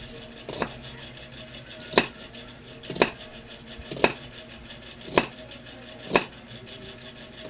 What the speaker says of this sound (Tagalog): Manipis lang ang paghiwa ng sibuyas.